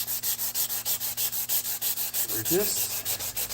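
Sandpaper rubbed by hand in steady back-and-forth strokes, about eight per second, close and even, with a brief voice cutting in near the end while work on prototype seat belts for an S10 goes on.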